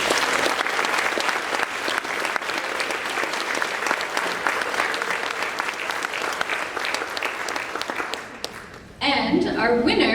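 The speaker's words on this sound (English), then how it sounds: "Let's give them all a round of applause." An audience claps steadily and loudly for student employees at a university staff recognition event, the clapping continuing throughout before cutting off abruptly near the end, where a voice begins.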